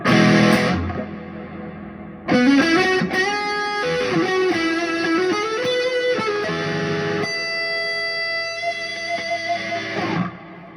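An electric guitar plays sustained notes and short melodic phrases through a Seraphim reverb pedal, washed in heavy reverb that lets each note ring out and trail off.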